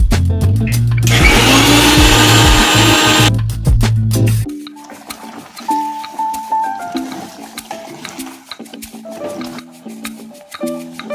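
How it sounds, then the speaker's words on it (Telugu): A mixer grinder whirs loudly for about four seconds grinding cashew nuts into a paste for a village-style pot chicken gravy, then stops, leaving quieter clinks and handling sounds. "అలాగే మంచి గ్రేవీ కోసం ఇందులోకి కొన్ని జీడిపప్పులను మిక్సీ పట్టుకొని"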